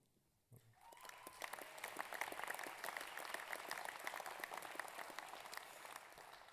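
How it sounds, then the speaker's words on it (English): Graduation ceremony applause at Massey University, Manawatū, begins abruptly after a brief hush and continues as a steady, full crowd of clapping hands for several seconds. "That last clapping was very good."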